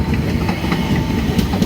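A Dallas transit train passes close on the tracks with a loud, continuous rumble and faint rhythmic clacking of wheels over rail joints.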